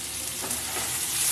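Potato slices frying for Bengali aloo bhaja give off a dense, continuous sizzling hiss from a covered pan, steady and fairly close, with no voices.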